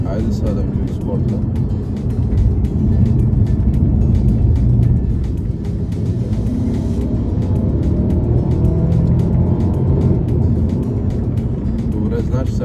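A Mercedes CLA 250's engine roars and surges in sport-mode kickdown as it accelerates hard, a loud steady drone throughout with someone talking over it.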